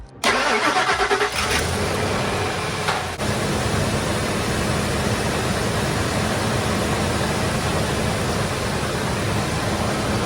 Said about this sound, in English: That's the first time this thing's been started in like a week, so that was a pretty cold start.